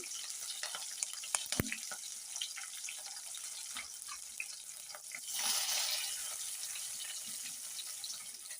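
Green and dried red chillies fry in hot oil in a pan, a faint, steady sizzle with a brief louder hiss midway and a few small clicks.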